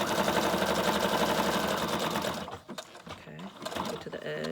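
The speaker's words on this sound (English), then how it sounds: "I like to do a straight stitch when I'm bringing it around like this." A sewing machine runs a straight stitch along a junk journal made from a pudding box, a fast, even mechanical whirr for a couple of seconds that then stops, followed by quieter handling and a voice speaking.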